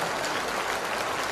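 An audience claps for a teacher at a school event, a dense, continuous burst of applause from many hands, heard briefly and alone.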